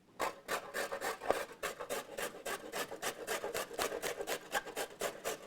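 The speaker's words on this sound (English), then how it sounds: "take this grater, and I use this carrot to keep the knob on so that I can just use that as a handle as I grate this" Rhythmic rasping of a raw carrot scraped across a hand grater, quick regular strokes about three or four per second, close and fairly quiet with no talking.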